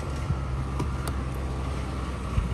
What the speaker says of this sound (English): It's idling really high